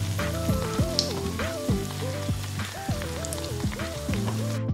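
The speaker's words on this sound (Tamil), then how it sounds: "நம்ம இன்னொரு கடாயில் எண்ணெய் நல்லா காய வச்சுட்டு பிரெட் ஸ்லைஸ் ஒன்றுத்தையும் நம்ம ஃப்ரை பண்ணி எடுத்துக்கலாம்" Bread slices deep-fry in a kadai of hot oil for shahi tukda, a steady close sizzle running beneath melodic background music.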